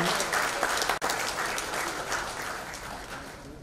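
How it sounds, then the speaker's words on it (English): An audience gives warm applause for the chief guest, Professor Muhammad Ali Arafat, at the Infocom Dhaka 2024 inaugural ceremony. Dense, loud clapping fills the hall, with one brief dropout near the start and a slight fade toward the end. "the applause should be louder and warmer, everyone"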